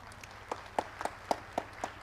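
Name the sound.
audience clapping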